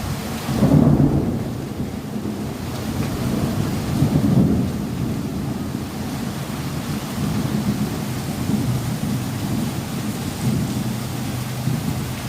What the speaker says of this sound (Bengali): কত সময় তাকে বৃষ্টি হয় বৃষ্টি একবারও কমছে না